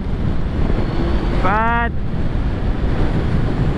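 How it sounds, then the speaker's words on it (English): Steady low rumbling wind buffeting a microphone throughout while riding a 2022 Suzuki Hayabusa motorcycle, with a brief voice speaking one word midway. "so a little bit windy today"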